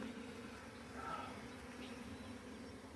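Honey bees at a swarmed beehive, drones among them, give a dense, continuous buzzing hum, faint and steady throughout without pause.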